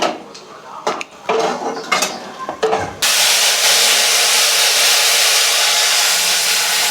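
A kitchen mixer grinds tomato, chili and coriander leaves for a curry, starting suddenly after a few close clatters of dishes and then running as a loud, steady, high whirring drone to the end.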